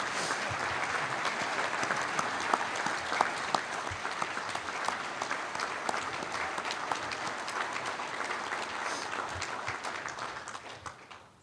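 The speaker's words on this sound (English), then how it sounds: "Let's give a round of applause for the District EMS of the Year recipients." Convention audience applauding District EMS of the Year award recipients, sustained dense clapping from a large hall that carries on for several seconds before tapering off at the end.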